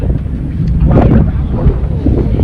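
Steady wind gusting and rumbling across the microphone beside a river ferry crossing near Majuli, loud and continuous with a low roar throughout, no voices.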